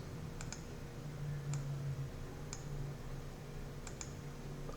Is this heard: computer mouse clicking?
yes